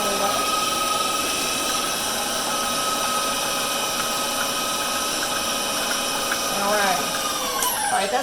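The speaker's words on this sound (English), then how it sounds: "It's a nice KitchenAid mixer that works really great." KitchenAid stand mixer creaming spritz cookie dough, a steady whirring motor drone with a few brief higher scraping sweeps near the end.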